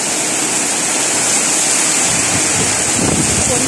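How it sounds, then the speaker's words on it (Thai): Heavy rain driven by strong wind on a second-floor balcony where potted caladium plants stand, heard as a loud, steady broadband roar with no break for the whole stretch. "ฝนตกหนักเลยทั้งลมทั้งฝนเลย"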